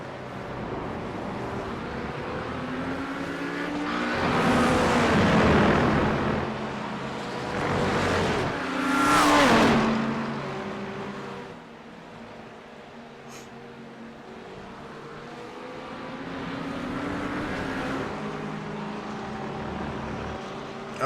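GT3 race cars, including a Mercedes, roar past on a long straightaway at Road America, with rising and falling engine notes as several cars sweep by close together, then a steadier distant drone.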